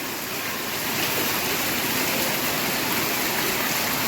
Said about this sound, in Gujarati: આજે દિવસમાં 3 વખત આવો જોરદાર વરસાદ આવ્યો છે ભાઈ, અને ભયંકર વરસાદ છે આજે